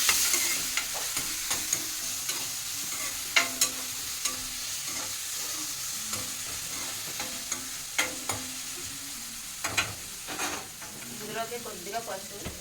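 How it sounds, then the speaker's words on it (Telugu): Green chillies sizzle in hot oil for a tempering, a steady frying hiss broken by crisp pops and spatters and a few stirring scrapes, close and alone. "పచ్చిమిర్చి వేసి తాలింపు పెడుతున్నాను"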